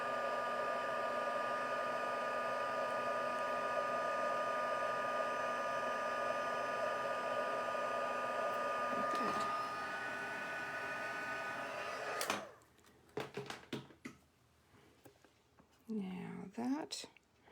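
An electric heat tool blows a loud, steady whine and whoosh while melting embossing powder on a stamped card, running for about twelve seconds before switching off, followed by handling noises.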